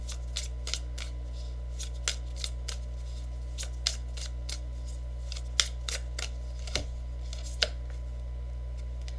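Tarot cards being handled and drawn from a deck, producing a series of soft, crisp flicks and snaps spaced irregularly over a steady low hum, with a couple of sharper card slaps standing out.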